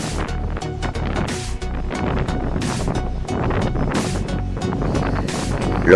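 Strong subtropical cyclone wind gusts batter a small harbour village on the coast, a loud continuous roar of buffeting wind with surging gusts and boat or water noise underneath, no voices.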